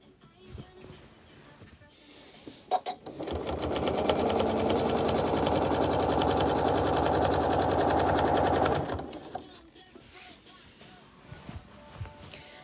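A sewing machine quilts a section of a quilt in one sustained, rapid burst of stitching lasting several seconds, with quieter handling and shuffling sounds before and after.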